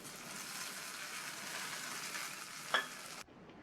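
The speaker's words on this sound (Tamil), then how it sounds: "இது கூட கருவேப்பிலை, 2 கட் பண்ண காஞ்ச மிளகாய், இதை நல்லா ஒரு தடவை இந்த மாதிரி வதக்கி வச்சுட்டு தாளிப்பை இந்த சட்னியில் சேர்த்துடலாம்." Tempering of mustard seeds, dal, curry leaves and dried chillies for coconut chutney: a steady soft sizzle of hot oil, a brief stir scrape near the end, then sudden quiet.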